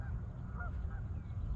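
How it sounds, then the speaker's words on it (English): Ducks quack faintly outdoors, a few short nasal honking calls over a low steady background rumble, lasting only a moment. "Besides those dogs yapping and ducks yapping"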